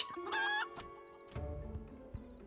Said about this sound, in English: The chicken is back.